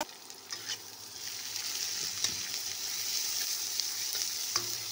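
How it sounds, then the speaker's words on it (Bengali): Onions added to a pan of hot oil with fried whole garam masala spices, a steady loud sizzle and crackle with a few sharp clicks of stirring, no voices. "এবার পেঁয়াজগুলো দিয়ে দিলাম।"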